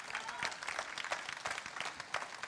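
Church congregation applauding during a pastor's sermon, a moderate, steady patter of many hands with a few sharper claps, fairly even throughout.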